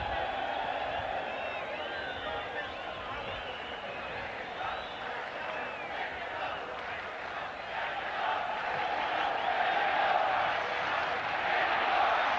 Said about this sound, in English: they are always chanting for Mexico, Mexico